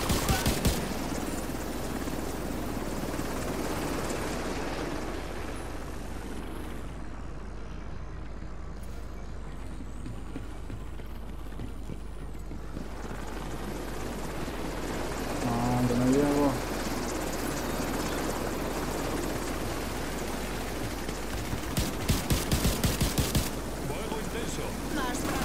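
Helicopter rotor drone and bursts of gunfire in the video game The Division 2, a dense continuous roar with rattling shots and a brief tonal rise midway, plus people talking throughout.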